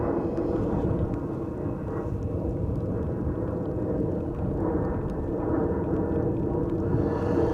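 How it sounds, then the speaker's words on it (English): A departing airliner above the clouds near Schiphol Airport drones overhead in a low, steady rumble, faint and continuous, with no voices. "There's also a departing airplane coming over, but it is already above the clouds."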